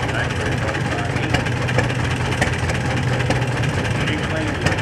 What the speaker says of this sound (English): This is Model D John Deere.